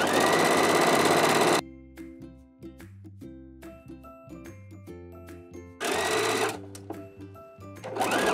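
Sewing machine stitching a homemade G-string thong, its dense mechanical whir loud at the start, pausing into quieter handling and tonal clicks, then surging again near the end.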